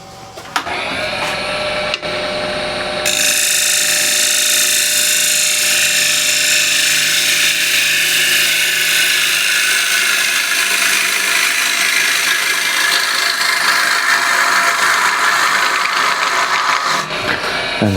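A wooden bowl being thinned on a woodturning lathe, a loud continuous high scraping hiss of the tool cutting the spinning wood that runs steadily for most of the stretch, preceded by a quieter motor whine with a few clicks.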